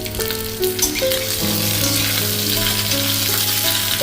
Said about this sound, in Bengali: এইভাবে নেড়ে চেড়ে একটু কষিয়ে এখন আমি দিয়ে দেবো কাঁচা লঙ্কা চিরাগুলো